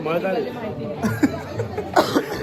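Several short coughs break through a stretch of talking, close and moderately loud, mixed with voices and small chuckles.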